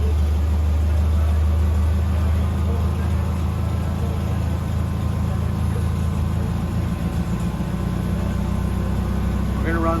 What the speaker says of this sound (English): We're gonna run the dyno test in 3rd gear.